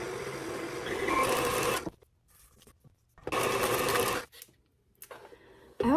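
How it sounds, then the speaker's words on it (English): Stand mixer with a paddle attachment beating vegan pumpkin roll batter, running in two close, whirring bursts of a second or two each with quiet pauses between, then a brief restart at the end. "I'll go ahead and get my paddle onto the mixer here"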